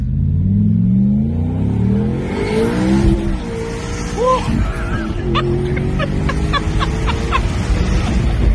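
A twin-turbo Audi RS4 accelerates hard from inside the cabin, the engine note climbing through rising gears with a loud, sustained roar and brief shift breaks, ending in a steady high-revving drone.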